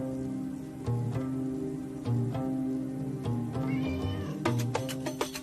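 A cat meows several times at close range, short repeated calls spaced a second or so apart, over a soft musical background.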